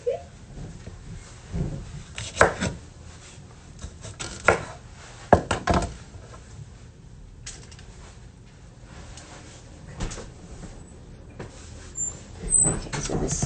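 A knife chops food on a board in a home kitchen, irregular bursts of sharp cuts and knocks at close range, scattered with pauses and soft background noise.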